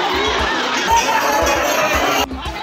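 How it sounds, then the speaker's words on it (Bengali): Dense crowd at a railway station during the Tarakeswar Yatra pilgrimage, a steady loud babble of many voices with footsteps and shouts throughout, dipping briefly near the end. "ওই দিকটাতে ভিড় দেখো কি পরিমাণে রয়েছে"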